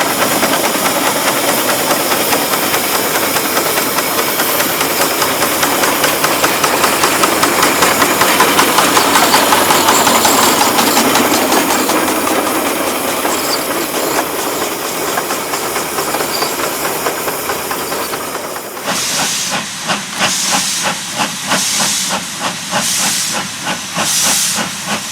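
A steam locomotive on a heritage railway gives off a loud, steady hiss of escaping steam that swells and fades, then gives way to rhythmic chuffing beats near the end, close by and with no talk.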